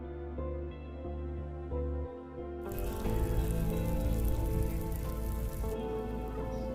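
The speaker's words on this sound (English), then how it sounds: "The light drizzle of rain was present throughout the day." Light drizzle of rain near a lake in Ooty, a soft steady patter that turns into a fuller, hissing shower partway through, with no voices.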